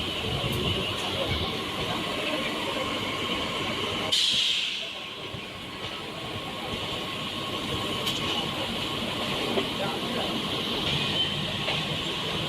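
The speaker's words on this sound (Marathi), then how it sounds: "ट्रेन चाललेली" Local train rolling along a platform at Pune railway station, a steady rumbling wash of wheels and hiss that holds throughout, with a brief sharp burst partway through and a slight dip in level after.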